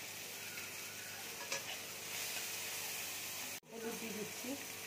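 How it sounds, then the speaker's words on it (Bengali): Chopped capsicum, salt and chili sizzling in a hot pan, with a steady hiss and stirring scrapes under quiet background sound, a brief cut near the end. "ক্যাপসিকাম কুচি দিয়ে দিচ্ছি, দিয়ে আমি ভেজে নেব।"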